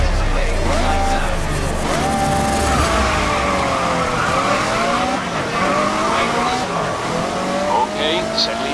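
Race cars launching at the start of a race in the Grid 2019 video game: a pack of engines revving hard with rising and shifting gear whines, tire squeal and loud overlapping roar throughout, close and continuous.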